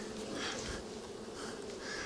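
Honey bees buzz in a dense, steady drone from a strong colony in a five-frame medium hive, close and continuous with slight swells in intensity.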